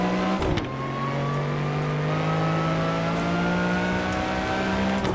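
A Lamborghini Miura P400 SV engine in Assetto Corsa on the Nordschleife, a loud continuous high-revving whine with a steady buzzing drone, held at sustained speed after a brief dip from a gear change near the start.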